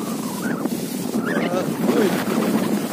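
Wind gusts rush across the microphone on a farm in a steady, buffeting roar, with faint voices blending into the noise.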